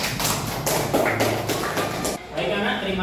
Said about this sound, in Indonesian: Tepuk tangan untuk kelompoknya Lydia.